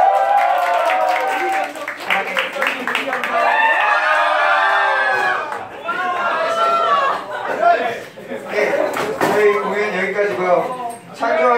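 Audience at a student group's annual concert clapping and cheering in bursts, mixed with chatter, laughter and voices speaking over the noise.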